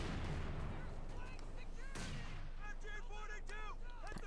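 Mortar fire in Company of Heroes 2 sounds as a few booming blasts amid battle noise, with chirpy game effects and chatter layered over a dense, busy mix.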